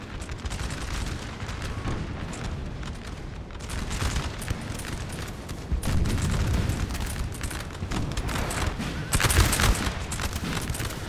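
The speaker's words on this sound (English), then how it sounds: "The French cavalry shooting here" Dense musket volleys crackle and boom from French cavalry and massed troops in a Napoleon Total War battle at Borodino, with repeated overlapping gunfire bursts and loud swells over continuous battle noise, no talking.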